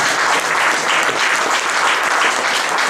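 Church congregation clapping together in acclamation during a Christmas Day service, dense steady applause filling the room for the whole stretch, loud and continuous with a faint voice underneath.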